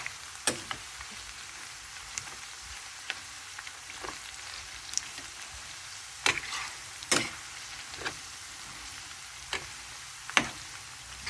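Garlic and tempering seeds frying on low heat in oil for a tomato pickle, a soft continuous sizzle with scattered sharp pops and crackles at irregular intervals.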